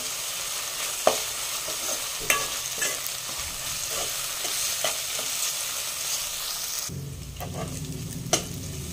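Ginger-garlic paste sautéing in an oil-filled pan while cooking methi matar malai. A steady close sizzle runs throughout, with a few sharp spoon scrapes against the pan, and the frying settles into a deeper, heavier sizzle near the end. No one talks.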